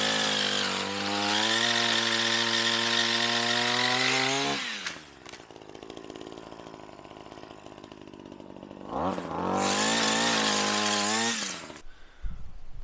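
A Sunseeker Wild Badger 4-in-1 multi tool, running as a chainsaw, cuts branches in two loud, steady bursts of rising engine whine. Between them the motor drops to a lower idle hum, then it cuts off at the end.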